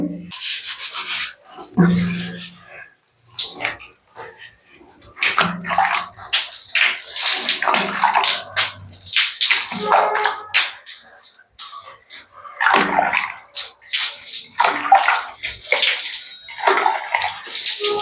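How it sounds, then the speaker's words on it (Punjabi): Freshly cleaned metal water taps are rinsed with clean water, heard close up as irregular bursts of splashing and rubbing with short gaps of near-silence between them. "ਹੁਣ ਆਪਾਂ ਇਹਨਾਂ ਨੂੰ ਸਾਫ਼ ਪਾਣੀ ਪਾ ਕੇ ਇਹਨਾਂ ਨੂੰ ਧੋਵਾਂਗੇ"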